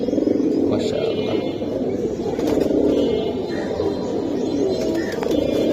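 Pigeons kept as loft birds, giri baz and homer types, coo and murmur continuously in a dense, close chorus under a steady low rumble.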